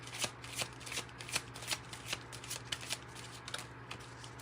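Tarot and oracle cards being shuffled by hand, a steady run of soft riffling card slaps about every half second over a low background hum, close and fairly quiet, with no talking.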